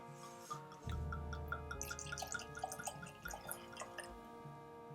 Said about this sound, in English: Shall you pour us a glass?